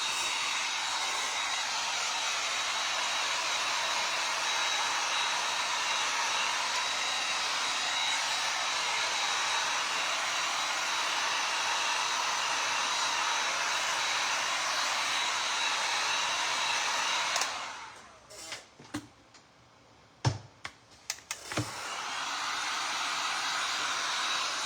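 A hair dryer blows a loud, steady hiss for about seventeen seconds to quick-dry a rice paper home decor craft, then cuts off briefly with a few clicks and handling knocks before restarting.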